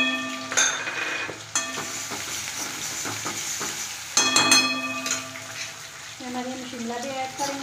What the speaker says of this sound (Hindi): इसमें हम डालेंगे हमारी प्याज, हरी मिर्ची, हमारा जो अदरक लहसुन कटर किया हुआ था